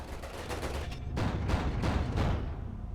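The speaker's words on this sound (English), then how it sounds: "That was a good explosion." A space battle explosion in the strategy game ERA ONE, heard as a dense rumbling burst of crackling blasts that swells and rolls on for a couple of seconds before tailing off.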